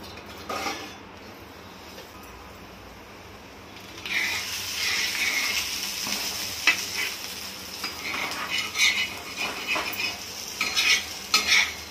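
Alu vadi, colocasia-leaf rolls, pan-frying on a tawa with a soft sizzle that swells after a quiet start, punctuated by spatula scrapes and light clinks against the pan.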